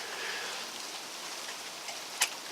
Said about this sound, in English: it's pretty rainy, almost like sleet